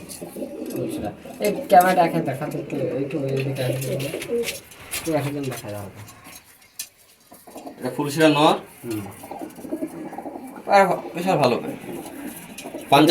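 Punjabi pigeons coo in repeated throaty bursts close by, with clinks and rattles and people talking between the calls.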